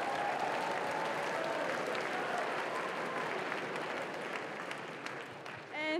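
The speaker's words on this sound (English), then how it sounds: "can we get another round of applause for them?" Applause from students at an upper school assembly, a steady dense wash of clapping from a large crowd that thins slightly toward the end.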